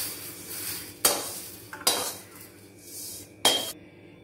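A spoon scrapes and scoops roasted rice out of a metal pan while making Diwali chakli flour: three sharp, close scraping strokes with quieter rustling between them.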